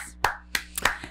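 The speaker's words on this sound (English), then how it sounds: "So let's all give her a round of applause." A few people clapping for a podcast co-host, four or five distinct, separate claps close to the microphone in a small room, sparse rather than a full round of applause.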